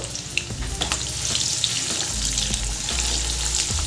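Two medium-sized onions fry on a high flame in a pan for masoor dal with banana flower, giving a loud, steady sizzle with occasional stirring clatters and no voices.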